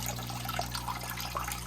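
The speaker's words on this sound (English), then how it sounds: "this water drains in, flows into this section of the sump" Water trickling and draining into a section of an aquarium sump on a Chesapeake Bay oyster reef biotope tank, a steady close-up flow with small drips and splashes over a constant pump hum.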